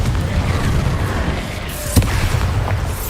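Confringo, an explosive spell in the Hogwarts Legacy video game, goes off as a booming blast with a sharp burst near the middle, set against dense, rumbling game noise.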